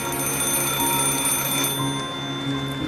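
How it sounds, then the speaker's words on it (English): Many telephone booths ringing at once in a destroyed city in the game Snowbreak, a steady layered electronic ringing that sustains through the whole stretch, loud and unbroken, fading slightly near the end. "I look up to find countless telephone booths, all ringing simultaneously in the destroyed city."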